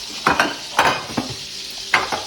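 Salmon searing in a pan gives a continuous sizzle, with several loud clattering bursts of pan and utensil contact spaced irregularly across it.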